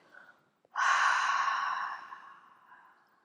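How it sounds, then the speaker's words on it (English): A single long, audible exhale with an open 'ha' quality during a yoga breath meditation, rising sharply after a brief silence and trailing off gradually, close and alone with no talk. "And with a ha sound, exhale."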